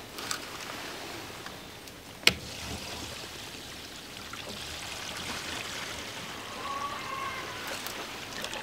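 Rainwater flows through an underground pipe with a steady, faint hiss and trickle, broken once by a sharp clank, otherwise quiet with no voices.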